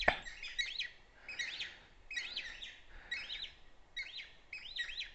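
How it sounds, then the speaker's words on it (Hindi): Various bird species chirp and twitter while gathering in trees at an evening roost, a steady chorus of bright, overlapping calls coming in repeated bursts at moderate distance, with no talking. "विभिन्न प्रजातियों के पक्षी, उनकी चहचहाहट, उनका आपसी वार्तालाप"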